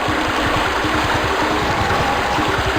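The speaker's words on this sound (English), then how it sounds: "Oh god, that water rising sound effect." Rising-water sound effect from the video game Crash Bandicoot 3: Warped, a loud, steady rushing and churning of water that continues unbroken throughout with no voices.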